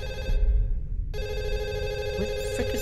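A telephone ringing indoors, a bright electronic ringtone with a pulsing tone that pauses briefly and then resumes, loud and near, over low rumbling background noise.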